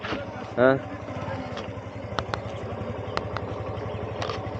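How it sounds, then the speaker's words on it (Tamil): A motorcycle engine idles with a steady low throb and occasional clicks, while a voice briefly speaks over it. "இப்போ பைக் எடுத்துகிட்டு வந்தாச்சு. 3 பைக்கில் வந்தோம்."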